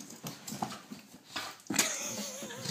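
Dogs play-fighting indoors, with soft whimpers, yips and scuffling close by, ending in a longer high whine.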